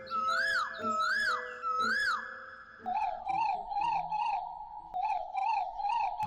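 A cartoon character's voice imitates a frog call, giving a loud series of warbling, wavering croaks near the microphone: first three long slow calls, then a quicker run of shorter, lower calls.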